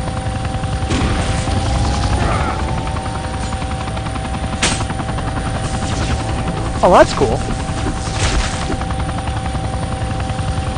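Helicopter rotor drone with bursts of gunfire in the video game Vivisector, a steady mechanical hum running throughout with a few sharp shots, a brief louder burst near the end, and a person speaking briefly over it.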